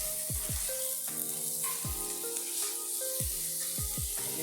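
Cut potatoes fry in hot oil in a pan for an Assamese-style pork ribs curry, a constant close sizzle with a few sharp tonal swoops over the top.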